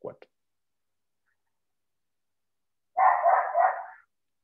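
A small dog gives a brief yip at the start, then after a pause of nearly three seconds a denser burst of barking follows for about a second, close and fairly loud against silence.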